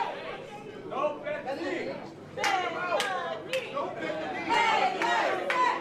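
A wrestling arena crowd during a women's championship match chatters and shouts in loose, uneven bursts, with sharp claps and cries standing out over a constant murmur rather than a unified chant.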